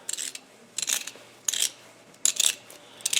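Knife blade twirled by hand in a hole to set a counterbore, a series of close, short scraping rasps in a steady rhythm, about five strokes with quiet gaps between them.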